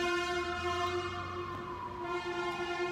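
A loud, sustained train horn blows steadily for the full three seconds, its layered harmonic tones holding a constant chord that dips slightly in pitch midway, with a low rumble of rail traffic underneath.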